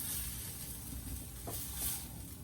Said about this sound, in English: Just kind of scraping these because of the little grooves